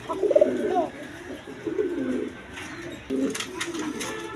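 A Bashiraj Kokata pigeon coos repeatedly in low, rolling phrases, close by, with faint background voices and occasional rustling.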